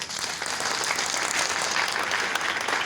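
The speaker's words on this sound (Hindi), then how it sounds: "ताली होनी चाहिए यार।" Audience clapping at a company meeting, a dense continuous burst of applause from a crowd indoors, loud and steady throughout with no talking over it.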